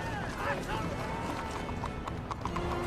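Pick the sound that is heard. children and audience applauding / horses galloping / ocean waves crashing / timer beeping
horses galloping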